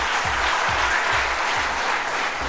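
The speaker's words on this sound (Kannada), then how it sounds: "ಕಂಗ್ರಾಚುಲೇಷನ್ಸ್. ಚಪ್ಪಾಳೆ ಪ್ಲೀಸ್." At an event in Mysore, an audience claps in a steady, dense burst of applause, with many hands together close by and no break.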